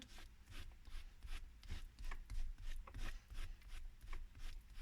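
A card being rubbed through a stencil: steady back-and-forth scraping strokes in a quick, regular rhythm, close and fairly soft, with no talking.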